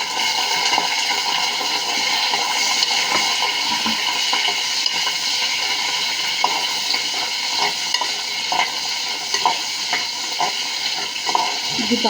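Onions and green chilies frying in a pan with a steady, close sizzle and occasional stirring scrapes, continuing throughout with no voice.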